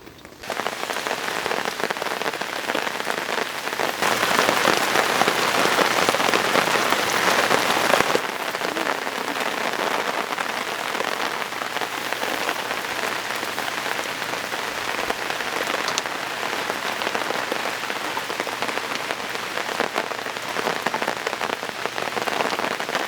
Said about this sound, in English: waiting for the break in the rain again. It never came though. It continued to pour and pour.